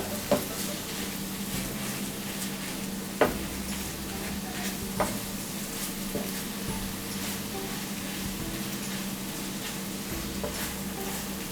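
Cornflour-thickened sauce for a mushroom chicken roast is stirred in a pan, with a steady low bubbling and a few sharp spoon clicks against the pan in an otherwise quiet kitchen.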